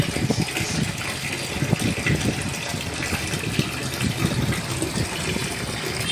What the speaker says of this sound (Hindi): मैं साइफन पंप के थ्रू यहाँ से मैं इस थोड़ा सा पानी को कम कर देता हूँ